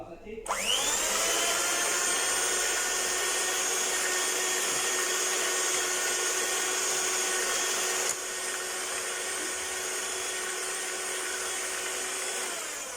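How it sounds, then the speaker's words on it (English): An electric mixer whisks banana bread batter of mashed banana: the motor starts with a rising whine and then runs at a steady, loud, high hum, with a slight drop in pitch and level partway through, with no talk. "Now we're going to turn on our machine and give this a whisk."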